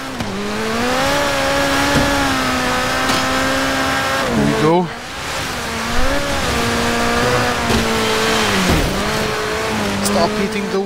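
A car in Forza Horizon 3 on Blizzard Mountain accelerates with a steady, loud engine drone that rises and falls in pitch through gear changes, and someone talks briefly over it.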